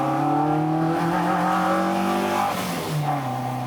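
A car engine runs close by with a strong, steady harmonic drone that rises slightly, then dips in pitch and recovers near the end, heard alone without speech.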